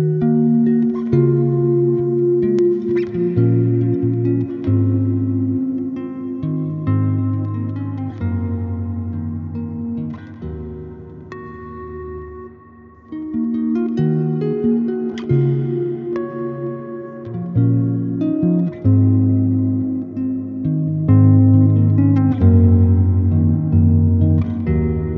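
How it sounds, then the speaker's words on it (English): Clean electric guitar played through a MixWave Milkman Creamer amp plugin with its reverb on, producing sustained chords and melodic lines with a lingering ambient tail, loud and continuous throughout. "The reverb on the amp is really great."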